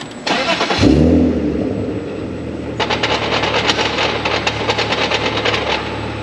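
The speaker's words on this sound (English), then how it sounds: "No, that's just second clacking around." A BMW E46 with a broken second gear drives with its engine droning and a rapid, steady rattling clack from the gearbox, after a brief louder surge at the start, close and with no talk.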